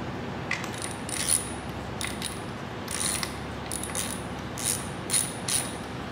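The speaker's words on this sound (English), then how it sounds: "I'm only going very light with this little teeny tiny ratchet." A tiny ratchet lightly snugging timing cover bolts on a Ford 302 small block, with bursts of quick metallic clicking in several short runs separated by pauses, close and crisp.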